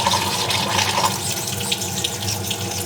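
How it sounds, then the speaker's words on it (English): Running water rinsing a burnt screen-print design off a screen, a steady, close, loud gush of water spraying continuously throughout. "So we're just washing away that design that we just burnt right here."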